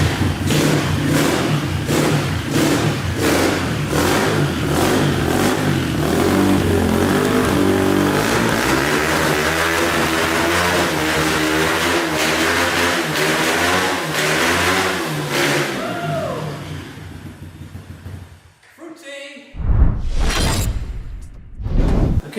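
Loud, raspy exhaust of an M2R RS-R 125cc motorcycle revving hard up close, with repeated rising and falling throttle blips before it cuts off, followed by a few clunks.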